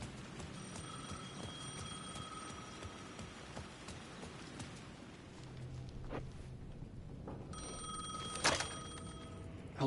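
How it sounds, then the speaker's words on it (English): Telephone ringing in the video game Alan Wake II, repeated bell rings sounding over steady rain-like ambience, growing louder and sharper toward the end. "The phone was ringing again."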